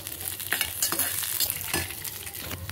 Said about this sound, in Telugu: ఇలా గోల్డెన్ బ్రౌన్ కలర్కి వచ్చాక ఈ ద్రాక్ష కూడా వేసుకుని ఫ్రై చేసి పోసేస్తాం